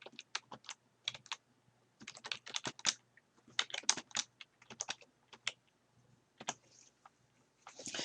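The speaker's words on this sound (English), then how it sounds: "Pressing the Tab key twice, I'm going to type in a date, today's date." Computer keyboard keys tapped in quick bursts while a date is typed into a Word 2013 document, close and crisp with short pauses between groups of keystrokes, no voices.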